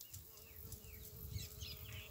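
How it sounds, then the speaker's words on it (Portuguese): Bees buzz faintly among the flowers of a black jurema tree overgrown by a vine, a soft, steady outdoor hum with no talking. "O barulho das abelhas nas flores."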